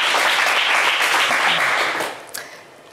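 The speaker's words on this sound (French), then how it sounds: "Eh bien, on vous applaudit très fort, Cédric" Studio audience applause on a French TV game show, a steady dense wash of clapping that thins out and fades near the end, with a single sharper clap just after.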